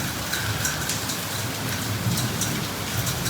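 Heavy monsoon rain pours steadily in Vadodara, a dense unbroken hiss of drops on surfaces with no pauses and no voices.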